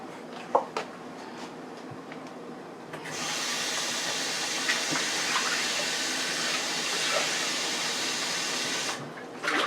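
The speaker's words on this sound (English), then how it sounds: "now we got to add the liquid" A kitchen tap runs water in a steady hiss for about six seconds while pie crust is being made from scratch, with a few soft clinks before it and the flow shutting off near the end.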